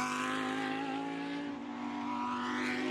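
Lamborghini Super Trofeo race cars at Road Atlanta, a loud, steady, high engine drone with rich harmonics and a slight pitch dip midway, close and continuous with no talk.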